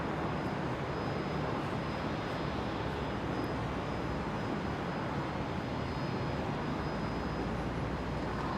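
Qantas airliner arriving at Brisbane Airport on runway 01 left after a flight from Mackay, its engines a steady, broad roar holding at constant loudness with no pauses, no voices heard.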